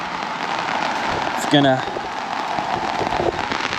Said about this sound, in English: It's starting to rain more and more